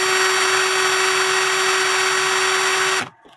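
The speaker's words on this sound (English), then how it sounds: "You put it on the stone on the pivot, turn on your drill" An electric drill spins a cuckoo clock pivot against a polishing stone during repair of an 1880s Alexander Fleig hunters' clock, giving a loud, steady, high whine held for about three seconds before it cuts off abruptly.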